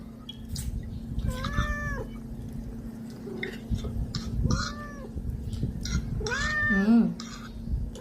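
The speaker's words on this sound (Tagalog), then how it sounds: "Ingay yung pusa ko." A cat meows repeatedly, three or four drawn-out calls close by, with quiet background clatter between them.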